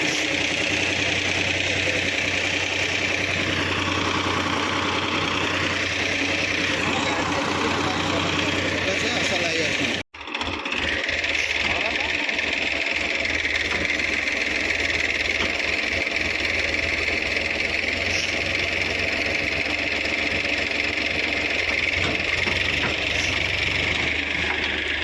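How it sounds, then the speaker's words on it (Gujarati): A tractor engine idles on a farm field right after starting, a steady near rumble that holds throughout apart from a brief dropout near the middle. "અમે આવ્યા ને ટ્રેક્ટર ચાલુ થઈ ગયું."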